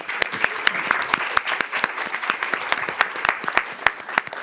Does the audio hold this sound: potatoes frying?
no